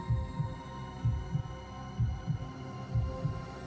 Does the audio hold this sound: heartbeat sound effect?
yes